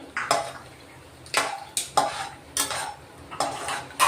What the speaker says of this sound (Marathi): काजू तळून घेऊ थोडे।